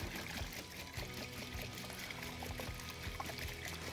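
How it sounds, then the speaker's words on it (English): Air filter cleaner for a motorcycle or ATV foam filter is poured into a tub, making a quiet, steady trickling pour. "So I'm just gonna fill this up with the cleaner."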